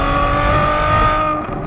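A Ferrari 812 Superfast's 6.5-litre naturally aspirated V12 drones loudly and steadily, holding a rich, sustained engine note that eases off slightly at the end, with no talking.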